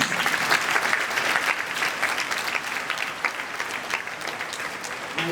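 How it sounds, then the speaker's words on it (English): Audience applause at a senior school Easter assembly, a dense, loud burst of clapping from a hall full of people that tapers slightly but keeps going throughout. "Can we give them another round of applause?"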